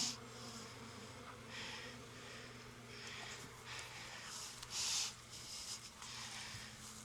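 Honey bees in an observation hive give off a faint steady hum with soft buzzing swells from wings close by, one brief louder buzz near the middle.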